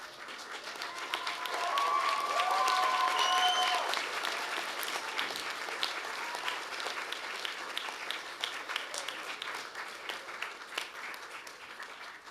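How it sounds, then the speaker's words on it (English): Graduates at a university business school graduation ceremony applaud their family and friends, a dense, sustained round of clapping that swells over the first few seconds, then continues steadily at slightly lower level, with some faint voices mixed in. "give them a rousing round of applause"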